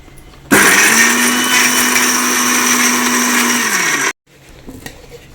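A kitchen blender grinds Oreo biscuits with their cream filling into crumbs, a loud steady whir running for about three and a half seconds and then cutting off abruptly.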